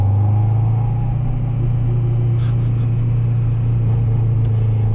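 Inside a 1995 Acura Integra GSR on the road, a loud steady low engine drone with road rumble holds throughout, with faint brief rustles near the end and no talk.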